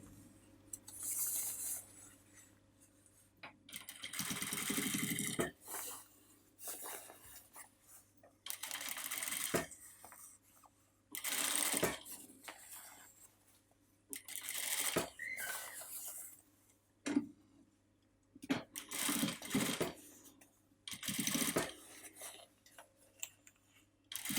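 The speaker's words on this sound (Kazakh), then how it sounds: "Айналдырып отырып тігеміз." Sewing machine stitching a seam on fabric with a 1 cm allowance while the fabric is turned, running in repeated bursts of rapid stitching separated by short pauses, fairly close and loud with no talk.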